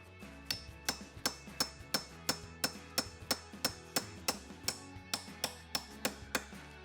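A socket used as a driver taps a metal tent support tip into the end of a pop-up camper tent pole on a rag over a hard surface: around twenty quick, even, ringing metallic taps in a steady rhythm, faint and close.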